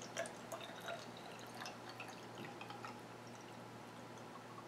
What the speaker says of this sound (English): all I'm gonna do is eyeball this and pour it into my container